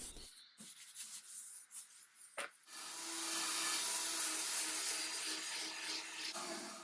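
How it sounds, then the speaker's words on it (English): A nylon abrasive brush scrubs the weathered surface of an old wooden buffet during restoration, starting with scattered scrapes and then settling into a steady close abrasive rasp; no voices. "Using nylon brush, 120 grit and 180 on surfaces like this was very effective."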